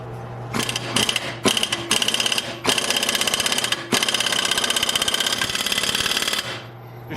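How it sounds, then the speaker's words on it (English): Pneumatic air ratchet driving the pinion nut on a Mercedes W109 during a pinion bearing race install, loud close bursts of rapid hammering clicks starting and stopping, then one long sustained run. "Right, we'll get the air ratchet on it now."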